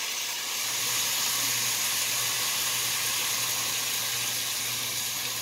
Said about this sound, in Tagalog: Now, we're gonna add some soy sauce